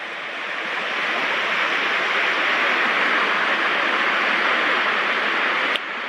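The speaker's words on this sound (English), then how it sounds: "the interaction of the waves together is pretty amazing." Ocean waves crashing together: a dense, continuous roar of surf that swells slightly and holds steady, close and loud, without any talking.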